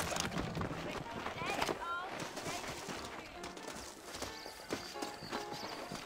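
Horse hooves clip-clop in a steady rhythm in the Western video game Red Dead Redemption, set in New Ulm, with voices talking over them and scattered gunfire further off.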